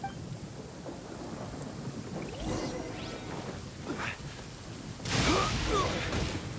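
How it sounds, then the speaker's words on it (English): A lightning storm in the video game Genshin Impact: steady rain hisses throughout while thunder rumbles and then cracks loudly near the end. "Uh-oh! Lightning storm!"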